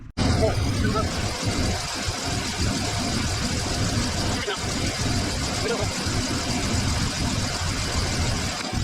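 An engine idles steadily while warming up, a continuous low rumble at an even level, with people talking over it at moments.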